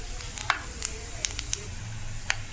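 Cumin seeds frying with peanuts and coriander, heard as quiet scattered crackles and small pops over a low steady hum.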